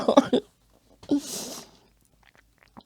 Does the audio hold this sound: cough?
yes